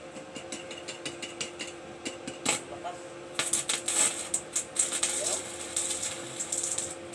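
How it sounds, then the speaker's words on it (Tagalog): A welding machine runs with irregular crackling and sputtering bursts that grow denser and louder partway through, over a steady background hum, while people talk at times. "So, legit gid siya nga pagka-welding machine."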